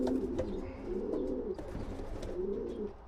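Pigeons coo repeatedly in low, throaty rolling calls, several birds overlapping close by in an enclosed space, with faint chirps scattered through.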